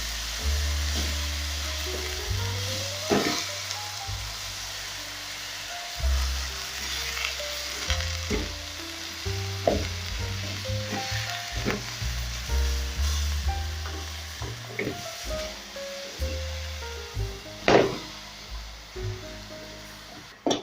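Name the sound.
frozen spinach greens sizzling with onions in pan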